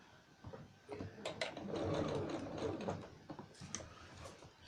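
A sewing machine back stitches a seam on a makeup bag, running in short close bursts of rapid mechanical clatter with brief pauses between them.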